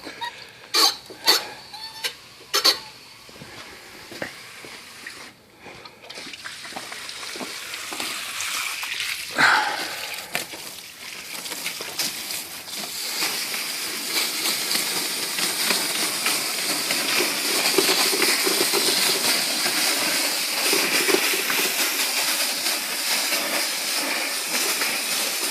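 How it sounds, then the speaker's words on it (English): Garden hose spraying water onto a heat pump, a few sharp clicks and knocks at first, then a loud, steady hissing spray that runs on to the end. "Alright, so we'll turn the hose on."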